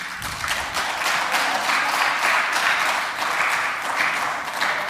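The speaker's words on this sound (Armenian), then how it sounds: "Շատ տարօրինակ ծափահարություններ են։" Applause rises in a parliament chamber, a dense wash of many hands clapping continuously throughout, steady and fairly loud with no gaps.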